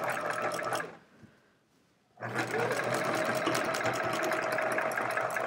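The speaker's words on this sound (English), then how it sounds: "Here are all those funny seams that I want to make sure that I sew over." A sewing machine stitches rapidly over quilt seams on a hedgehog quilt, running loud and close, pausing briefly, then resuming at a steady whirring pace.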